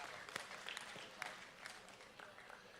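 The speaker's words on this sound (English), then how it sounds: "Let's give these young people that brought the dairy consignment out here to the county fair a big round of applause." Faint applause from the crowd at a county fair 4-H/FFA dairy cattle show, a soft continuous patter of many hands with a few sharper individual claps standing out, heard from a distance.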